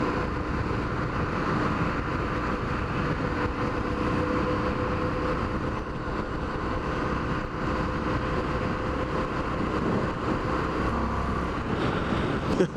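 An Indian FTR1200 motorcycle engine drones steadily while being ridden, a continuous loud rumble blended with rushing wind noise throughout, with no talking.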